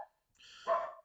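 Two dogs at home bark at someone outside: a short yelp, then a longer harsh bark heard close up but at low volume, with no voices.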